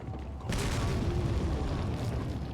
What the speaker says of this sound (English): I'm going to do a pretty precise grenade throw to kill all these enemies